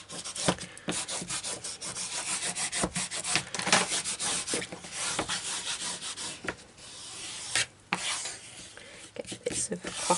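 Fabric being burnished down by hand onto a tri-fold journal cover, a dense, steady rubbing and scraping that runs almost continuously with brief pauses, close and fairly loud.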